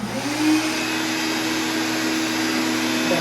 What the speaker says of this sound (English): you have to turn the spindle on by doing this